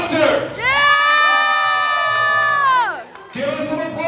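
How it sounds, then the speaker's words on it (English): A crowd at the Hussaria Cup game between the Pine Barons and the New York Orcs cheers for a dancer, with one long sustained whoop rising over the noisy roar and a scatter of shouts before and after. "Give us some applause for Hunter."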